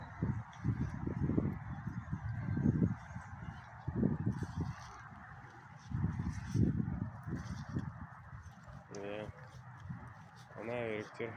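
Ducks call while feeding along a river in Katowice, Poland, giving a few nasal honking quacks near the end, with people talking steadily throughout.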